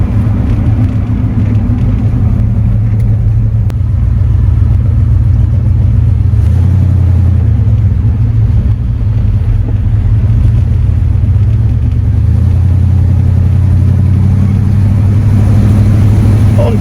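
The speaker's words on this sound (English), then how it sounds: "Gentle acceleration," A 1974 Cadillac Superior hearse, nearly three tons, accelerates gently with a loud, deep engine rumble heard from inside, steady and continuous throughout.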